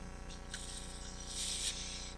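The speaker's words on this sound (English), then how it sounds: "Go ahead and spray these bolt holes a little bit." Short bursts of aerosol cleaner spray hiss close by into bolt holes on a Polaris RZR XP 1000, a few quick puffs over a steady background hum.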